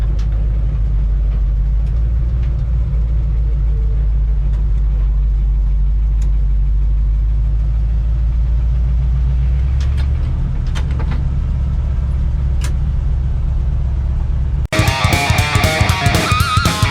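A 1962 Chevrolet C10 pickup truck driving on an errand to the shops, its engine a loud, steady low rumble with road noise throughout, then cut off by a burst of unrelated harsh noise in the last seconds.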